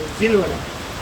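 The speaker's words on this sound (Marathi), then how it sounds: "इथे बघू शकता जोरात पाऊस आला तो." Heavy rain pouring down outside a sweet shop, a dense steady hiss filling the short moment while a voice speaks briefly over it.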